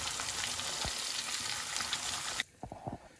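Fish pieces frying in oil in a kadai, a dense steady hiss and crackle close by with a few soft knocks, cutting off sharply near the end to leave a few quiet bumps; no talking.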